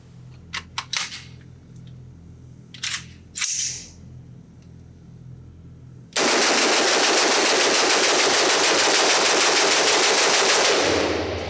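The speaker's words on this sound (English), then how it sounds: "I just want to do a 30-round mag dump" A B&T APC223 pistol fires a few separate sharp shots, then unloads a 30-round magazine in one dense, continuous burst of rapid fire lasting about five seconds, loud and close.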